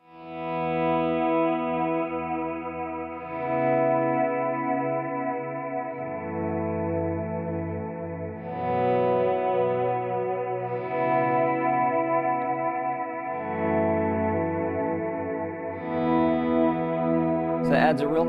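Electric guitar played through an effects patch on the middle pickup, each strummed chord rising in a smooth volume swell and ringing out with echo, chorus and distortion, sustained pads shifting every few seconds over about eighteen seconds.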